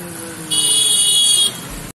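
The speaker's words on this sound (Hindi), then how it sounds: "ये इसका हॉर्न है, हॉर्न यहाँ लगवा रखा जुगाड़ करके भाई।" A makeshift horn rigged onto a Bolero pickup loading truck gives one steady buzzing honk of about a second. It sounds close and clear over a low idle background.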